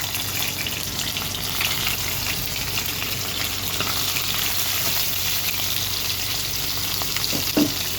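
Chapa shutki, dried fish, frying in hot mustard oil gives a steady, dense sizzle that runs the whole time, with a short stirring clatter near the end.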